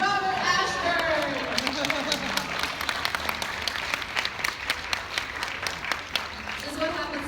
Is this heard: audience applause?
yes